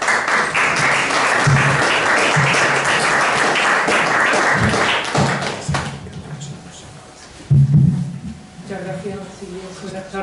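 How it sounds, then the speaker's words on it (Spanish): A book-launch audience in a library gives a burst of applause for a speaker, dense clapping that fades after about five seconds and gives way to voices talking. "Un fuerte aplauso para ella."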